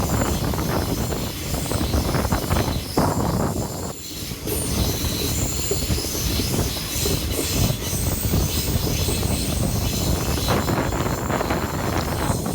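WDP4D diesel locomotive hauling the Bangalore–Ernakulam superfast train through the green Muttampatti ghat section; steady loud rolling rumble and wheel noise with brief squeal, buffeted by wind on the microphone, continuous throughout.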